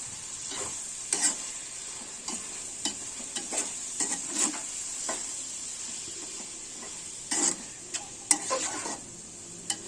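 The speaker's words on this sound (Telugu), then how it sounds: "కొంచెం కారం వేసిన తర్వాత కొంచెంసేపు నూనెలో మగ్గనివ్వాలి" Chili powder cooks in oil in a pan with a continuous bright sizzle, broken by scattered stirring scrapes and clicks against the pan.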